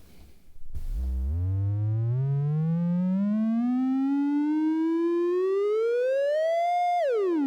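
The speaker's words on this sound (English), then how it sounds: "Right, triangle." A tone from an Electrosmith 3340 analog VCO synthesizer set to its triangle wave, starting low and sweeping steadily upward in pitch for several seconds before dropping at the end, loud and steady with no talking.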